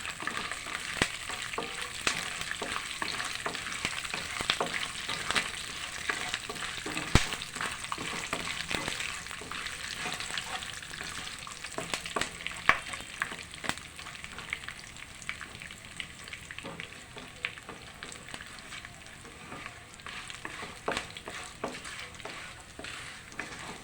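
Peanuts, tempering seeds and curry leaves fry together in hot oil. A busy, crackling sizzle with scattered pops and stirring scrapes continues close up throughout, with no talking.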